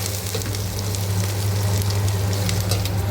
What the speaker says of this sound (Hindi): मैं सब्ज़ी को तड़का लगा रही